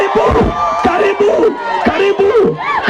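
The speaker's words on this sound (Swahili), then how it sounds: "Mkaribisheni kwa shangwe na vigelegele." Crowd cheering and ululating in welcome for a bishop at a stadium anniversary event, a dense roar of voices with high trilling ululations rising and falling throughout, loud and close.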